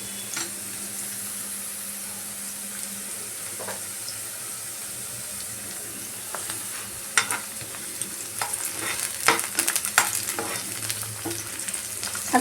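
Red bell peppers frying in a pan for an eggplant and egg dish, a soft continuous sizzle with occasional scraping clicks of stirring that grow busier toward the end.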